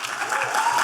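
A stand-up comedy crowd breaks into a brief, dense burst of applause, a wash of many hands clapping at once that fills the room.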